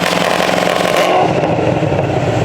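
A Camaro ZL1 1LE fitted with headers revs hard on launch control, a loud, close, continuous crackling engine roar that holds steady and then drops back slightly.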